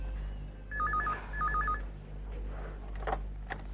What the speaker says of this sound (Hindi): हेलो सुनीता, अच्छा हुआ तुमने फोन किया